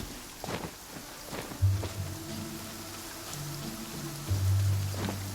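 Rain falls in the video game Genshin Impact, a steady hiss of drops pattering across surfaces, with a few soft thumps that may be footsteps and low tones underneath, and no voices.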